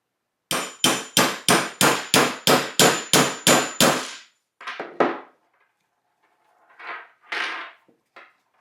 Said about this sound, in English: And then I grabbed the hammer.